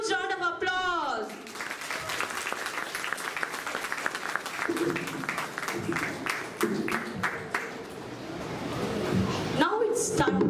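An audience at a Bangalore school program, Chitrakoota School, claps in a loud, sustained round of applause that fills the whole stretch, with a voice speaking briefly at the start and again at the end.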